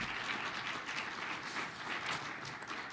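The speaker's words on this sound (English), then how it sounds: "Will everyone give a round of applause for our amazing panel?" Audience applause for a panel at a children's interagency coordinating council kickoff, a steady, fairly quiet wash of many hands clapping that holds evenly through the whole stretch.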